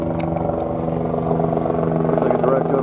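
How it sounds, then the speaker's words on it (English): A helicopter passes overhead with a steady, loud rotor and engine drone that holds at the same level for a few seconds. Faint voices are heard in the background. "Helicopter approaching."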